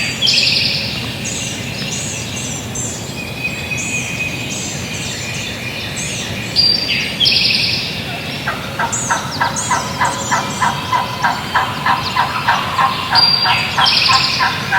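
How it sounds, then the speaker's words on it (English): Turkey calls carry across an open outdoor space: a hen yelps steadily, and a gobbler's rattling gobble answers from farther off. "Gobbler right there in the distance talking to her."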